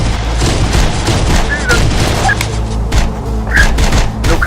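Sustained gunfire in the video game Terminator Dark Fate Defiance: dense, continuous shooting with booming impacts throughout, loud and close, with voices faintly mixed in under the battle noise.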